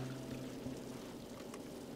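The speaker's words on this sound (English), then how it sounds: "Pour some moonshine, man." Moonshine poured from a bottle in Red Dead Redemption 2: a soft, steady liquid trickle, faint and close, running unbroken for about two seconds with no talking.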